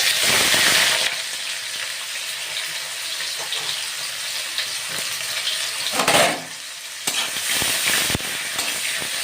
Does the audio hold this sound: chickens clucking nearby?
no